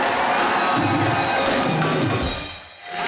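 Studio audience on Comedy Nights With Kapil clapping and cheering for a music duo. A loud crowd roar mixes with music, then dips sharply near the end before swelling again.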